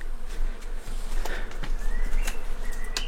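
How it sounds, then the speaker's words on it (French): A swarm of bees buzzing up in the trees at a decaying abandoned site, a faint continuous drone under sharp scattered clicks and knocks, with brief whistling tones drifting by. "on entend, je sais pas, il y a un stock d'abeilles."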